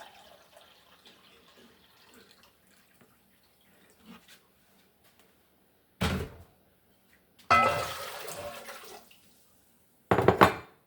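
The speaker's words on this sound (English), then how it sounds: "And I'm going to add 4 cups of vinegar." Vinegar poured into a pot for pickle brine, heard as short splashing pours separated by quiet pauses, the longest burst in the middle and a brief final pour.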